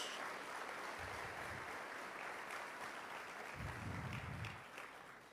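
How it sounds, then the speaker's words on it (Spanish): Church congregation applauding during an evangelical service, broad steady clapping throughout with two louder swells, no talk over it. "Dale un fuerte aplauso."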